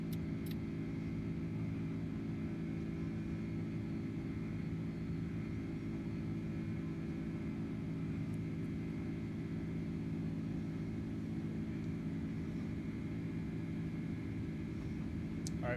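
FedEx cargo jet in Microsoft Flight Simulator, climbing out of Dallas DFW bound for Memphis after takeoff, a steady loud low engine rumble and roar holding throughout with no break.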